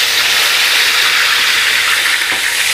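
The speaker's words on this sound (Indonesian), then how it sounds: "Ini minyaknya sudah panas, saya akan masukkan bumbu yang sudah dihaluskan tadi." Ground spice paste hits hot oil in a pan for tofu and egg opor, giving a loud, dense, steady sizzling hiss close to the microphone with no break.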